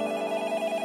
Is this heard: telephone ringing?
yes